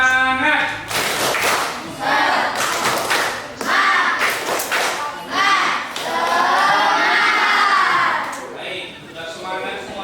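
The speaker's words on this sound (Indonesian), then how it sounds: "Tepuk semangat." Schoolchildren in a classroom perform the tepuk semangat, a rhythmic clapping chant, with bursts of clapping and shouted voices repeating over about ten seconds, loud and close.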